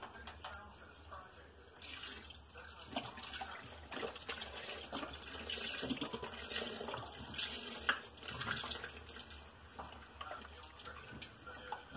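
Beef broth poured into a pot of hamburger soup, a steady running liquid splash that continues through the whole stretch at moderate volume, with faint background noises and a voice in the background.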